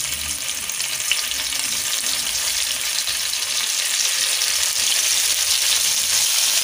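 Paneer pieces fry in oil, giving a steady, dense sizzling hiss that stays fairly loud and even throughout, with no voices.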